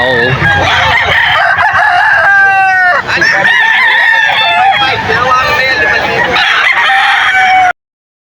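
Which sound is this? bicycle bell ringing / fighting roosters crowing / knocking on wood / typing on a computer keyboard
fighting roosters crowing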